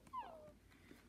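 A puppy in a video game gives a brief, faint, high whimper, a single short whine heard on its own.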